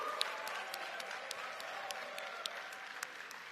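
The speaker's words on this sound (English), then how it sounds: "give a huge round of applause to our amazing behind-the-scenes team" Audience applause at a smartphone launch event in Bali, a dense even patter of many hands clapping at moderate distance, with a faint crowd murmur underneath.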